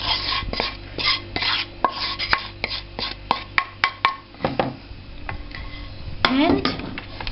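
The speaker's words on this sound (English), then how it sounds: "And mix it very well, very briskly" Kesari burfi mixture being mixed briskly with a utensil in a dish, giving rapid rhythmic scraping and tapping strokes that slow to scattered knocks, close and clear, with a voice speaking faintly at times.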